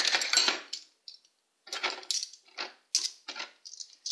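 Small teaspoons picked up and set down one after another at home, making light, close metallic clinks and clatters in scattered little clusters with short silences between, no voices.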